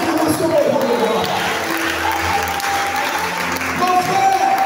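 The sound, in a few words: applause and cheering from a church congregation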